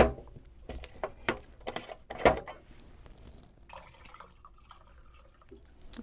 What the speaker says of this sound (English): I'm going to add a little bit more lacquer thinner